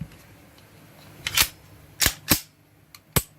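Several sharp metallic clicks sound close by, spaced unevenly, as a SAR 9 pistol spring snaps into place against low background hiss.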